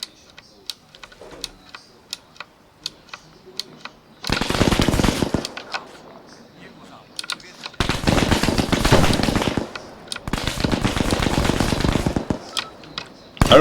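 Bursts of automatic gunfire from a tower in the military shooter Arma 3, with scattered single ticks between them and two long, loud, dense volleys that fill the scene, one brief burst to close.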